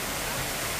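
Water trickling thinly down from above at Katika waterfalls in the Araku valley, a steady close wash of falling water that fills the whole moment with no voices.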